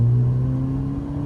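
An Alfa Romeo Giulia fitted with a GoPedal throttle controller revs hard under acceleration in sport mode, a loud steady engine drone with a low rumbling tone holding close throughout.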